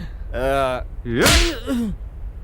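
A slap effect in a Hindi-dubbed South Indian action film lands as a sharp, whip-like crack amid strained vocal cries.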